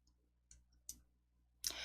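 A few faint, crisp clicks from a computer mouse, spaced apart in a quiet room, the last one followed by a brief soft rustle.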